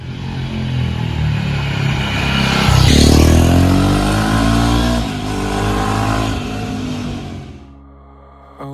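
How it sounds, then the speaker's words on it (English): A loud 2021 Jawa 42 motorcycle engine revs up and rumbles through its twin steel exhaust pipes nearby, rising and falling in pitch before cutting back to a low idle. "classic Java engine sound coming out of those two beautifully crafted steel pipes"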